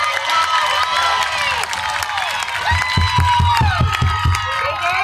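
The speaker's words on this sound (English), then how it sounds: "Crowd is hyped here tonight, folks." A high school varsity football crowd cheers and shouts at a night game, a loud, sustained roar with whoops and scattered claps, with some voices and a bass beat underneath.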